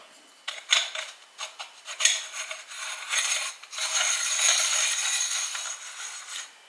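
A loose nut with play spins on a defective grinder's cutting-tool mechanism, giving close, irregular metallic rubbing and scraping with light rattles that swell and fade over several seconds.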